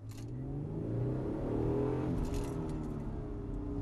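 A mid-1980s Pontiac Fiero, a light 2,500-pound car, accelerates with its engine note rising and sweeping upward over a few seconds, heard from inside or close by with no talking.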